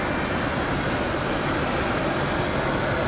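A Frontier Airlines airliner departing for DFW at Raleigh-Durham airport, its jet engines a loud, steady broadband roar with no talking.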